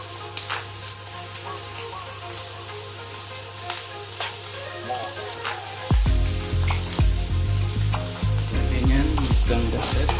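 Lechon sauce with breadcrumbs being stirred in a hot pan, a steady close sizzle and scraping that turns louder and thicker partway through, with frying bubbles and utensil clicks throughout.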